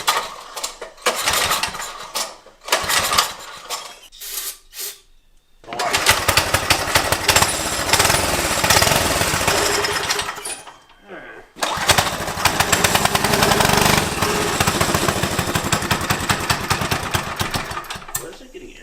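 An old go-kart's small engine is cranked and sputters to life in short bursts, then stalls. It runs again in two longer stretches of loud, close, rattling combustion with a rapid pulsing beat. People talk between attempts.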